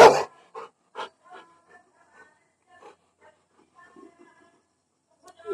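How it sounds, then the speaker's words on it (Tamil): A pet puppy barks and yelps in short bursts, a few sharp yips opening and closing the stretch with softer whimpering sounds between, heard near in a garden beside a hibiscus plant. "ஓ, எங்க பப்பி கொலைக்குது."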